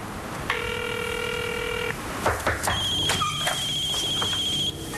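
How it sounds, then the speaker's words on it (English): A telephone rings indoors with a loud electronic warbling tone, followed by further chirping electronic tones and clicks, with no talking heard. "I can't stand the sound of a phone ringing"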